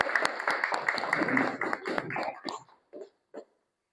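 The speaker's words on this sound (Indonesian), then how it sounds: "Ya, kita beri tepuk tangan." A small audience claps after a classroom presentation, a brisk patter of hand claps that thins into a few scattered last claps before silence.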